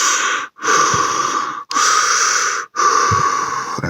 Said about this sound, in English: I start breathing, very controlled breathing.